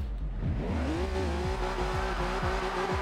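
A VW Desert Dingo racing stock Bug in Forza Horizon 2 drives hard, its engine note climbing through gears with repeated shift drops and tire squeal, loud and close, with no talk.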